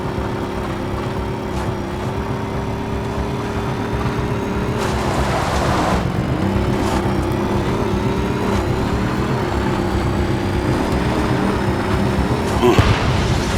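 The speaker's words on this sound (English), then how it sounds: "Sky car just crashed in there." A flying sky car crashing in the video game Mindseye: a steady droning vehicle hum with a rumbling impact burst midway and another sharp crash near the end.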